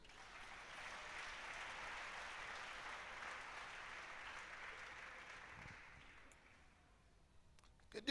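Church congregation applauding during a French-language sermon: a soft, sustained patter of many hands that fades away after several seconds, ending with a few scattered clicks.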